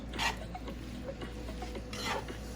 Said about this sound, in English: In the pan with the bell peppers. Now we're just gonna kind of mix them together and let it heat up again